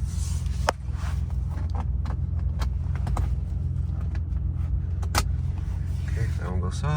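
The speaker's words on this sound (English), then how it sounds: "Car has a super nice idle and very healthy engine sound" A 1997 Porsche 911 Turbo of the 993 generation idles with a steady, even low rumble close by, broken by a few sharp clicks and a brief higher chime.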